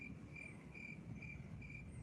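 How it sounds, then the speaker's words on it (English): Crickets chirp in a steady, evenly pulsed rhythm, faint and alone against a soft low background hum. "We're not adding those crickets."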